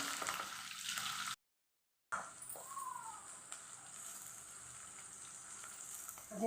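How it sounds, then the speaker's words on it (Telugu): Dried red chillies, green chillies and onion frying for a chana dal cabbage fry make a steady, faint hiss of hot oil, broken by a brief gap of silence. "ఎండుమిరపకాయలు పచ్చిమిరపకాయలు ఉల్లిగడ్డ ఇవన్నీ కొంచెం వేయించుకోవాలండి"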